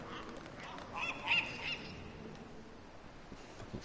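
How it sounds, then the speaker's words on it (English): A seagull calls out over the shoreline ambience of the Dear Esther game. A short, nasal honking cry rises briefly in the first half, mid-distance, over steady wind and sea noise. "Fucking seagull."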